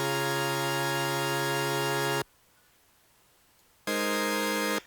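Heavily detuned supersaw synth chords in FL Studio, a thick buzzing sustained chord held for about two seconds, a pause of faint hiss, then the chord returns loud and steady.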